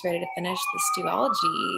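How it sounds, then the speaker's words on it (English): Emergency vehicle sirens passing through a city wail steadily underneath someone talking, the rising tone clearly audible beneath her voice across the whole moment. "I don't know if you guys can hear the sirens going by"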